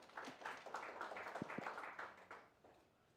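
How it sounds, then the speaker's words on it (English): An audience applauding at a satellite workshop, a short, faint patter of scattered claps in a hall that fades out after a few seconds. "So we give you a big applause."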